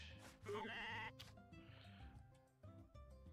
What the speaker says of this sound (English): My little rosy-cheeked sheep.